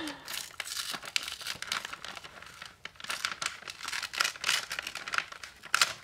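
Plastic wrapping on a book crinkles and rustles as it is peeled away, with dense, bright crackling bursts in an irregular rhythm, close to the microphone and at moderate loudness.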